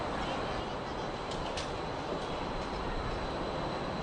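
A train pulls into a Budapest station, a dense steady rumble and hiss filling the scene, loud and close, with brief higher squeals from brakes or doors partway through.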